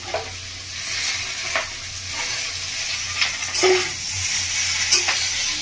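Onion and turmeric-coated prawns fry in a pan for a village-style ridge gourd dish, giving a steady close sizzle with a few soft stirring scrapes and spatula taps.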